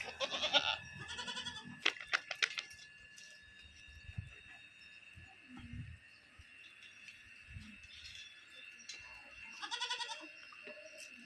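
Goats on a small native goat farm in Tamil Nadu, bleating repeatedly from close by in several loud calls spread across the clip, with quieter farm background noise between them.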